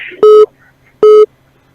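Two loud electronic phone tones of an incoming call on a radio call-in show, each about a quarter second long and evenly spaced, with quiet between them.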